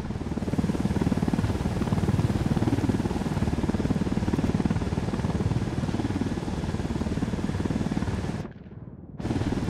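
A helicopter in the video game Ghost Recon Wildlands flies on with a loud, continuous rotor chop and engine roar that briefly drops out near the end before resuming.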